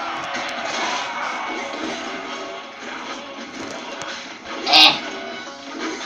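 Game crowd of fans cheering and murmuring steadily throughout at moderate level, with a brief sharp crash or shout near the end.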